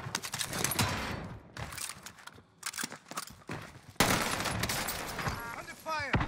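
Gunfire in Call of Duty: Warzone, bursts of shots popping in clusters across the scene with a louder, denser stretch toward the end, while a player talks over it.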